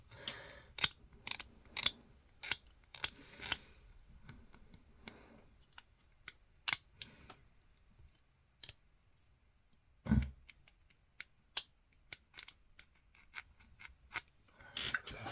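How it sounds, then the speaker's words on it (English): A blade scrapes a mould line from a plastic part of a Land Raider Spartan model kit, producing sharp, irregular scratching clicks in short bursts close by, against an otherwise quiet background. "Decided to scrape that mould line off just because I didn't really like it."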